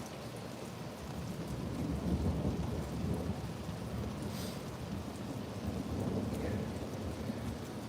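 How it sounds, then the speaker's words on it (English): Steady rain pours on a summer day as a thunderstorm passes, a dense even hiss with a low rumbling of thunder underneath, continuous and at moderate distance. "We sure needed this rain"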